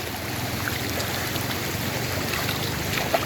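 Water flowing steadily through a stream in a farm field, a continuous close rushing and gurgling wash with no voices.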